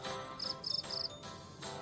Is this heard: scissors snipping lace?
no